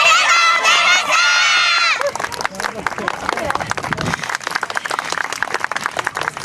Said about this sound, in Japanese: 拍手いただきましたありがとうございました